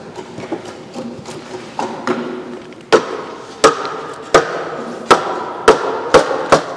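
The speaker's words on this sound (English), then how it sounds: "Quite a clunk with a big mallet." Series of heavy wooden knocks as a big mallet drives timber frame joints on a barn build, starting with lighter taps and building to about eight loud, evenly spaced blows close by.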